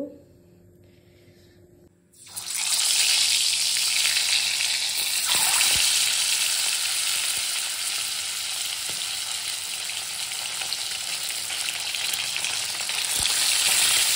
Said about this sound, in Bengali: কড়াই অলরেডি বসিয়ে দিয়েছি, একটু গরম হচ্ছে, ডিমটা একটু ফ্রাই করে নেব